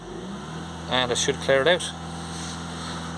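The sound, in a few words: Ford Transit Custom van engine held at raised revs during DPF regeneration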